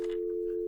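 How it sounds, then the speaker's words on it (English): A telephone ringing tone on an outgoing call: a single steady, pure-pitched tone holding evenly, moderately loud and alone. "the ringing tone that you hear"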